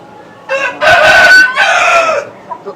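Tiger chickens on a poultry farm: a rooster crows loudly and close, with clucking hens around it and no talk.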